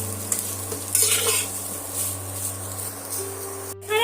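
Steady sizzling of soya chunks frying in hot oil, with a spoon stirring through the pan now and then, close by with a constant low hum underneath.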